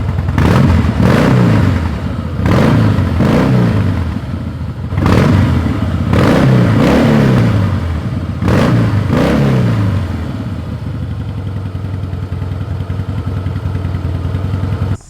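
A 2025 Honda Grom motorcycle ridden on the road, its small engine loudly revving up and easing off in repeated bursts through gear shifts, then settling into a steadier drone near the end.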